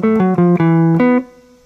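An electric guitar plays a shuffle triplet rhythm exercise: a short run of clear, evenly accented picked notes in a lilting pattern, then a final note left to ring and fade, with no voice.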